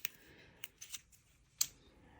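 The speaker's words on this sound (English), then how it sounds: "can you see how nicely the Stamperia scissors cuts tape?" Stamperia scissors snip through tape in a few quiet, crisp cuts, isolated clicks spaced irregularly over near silence.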